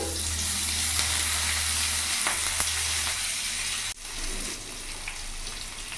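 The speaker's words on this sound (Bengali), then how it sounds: "রসুনটা ভালো করে ভাজা ভাজা হয়ে গেছে, কাঁচা লঙ্কাগুলো পুরোটা দিয়ে দিলাম" Chopped garlic and whole green chillies sizzle loudly in hot oil for a Bengali bharta, a steady dense crackle with a brief dip and stir near the end.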